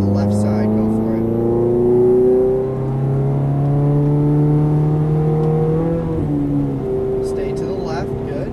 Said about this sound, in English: And now full throttle down the left side